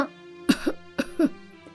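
Two coughs from an older woman in a winter-set story, each a sharp burst followed by a softer catch, spaced about half a second apart over a quiet background.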